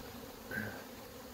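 Honey bees buzz softly at a hive, a faint continuous hum with one bee droning briefly louder as it passes near.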